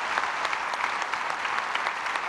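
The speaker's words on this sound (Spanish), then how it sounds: "¡Un aplauso para ellos!" A studio audience at a talk show claps for guests, a brief burst of steady, dense clapping with a few sharper hand claps standing out and no talk over it.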